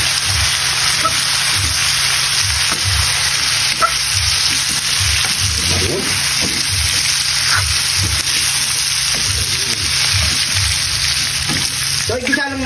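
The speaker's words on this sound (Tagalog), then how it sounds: "igisa lang natin ito ng 5 minutes" Binawang sautéing in a pan with soy sauce, a steady close sizzle broken by scraping stirs, with a faint rhythmic low thumping underneath.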